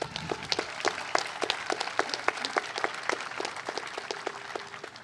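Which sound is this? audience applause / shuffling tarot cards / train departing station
audience applause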